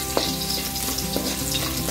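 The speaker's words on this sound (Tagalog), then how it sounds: "Ngayon, magigisa na tayo bawang." Garlic sautéing in hot cooking oil for a Filipino pork dish, a steady close sizzle and crackle with occasional light clinks of a utensil stirring, no voices.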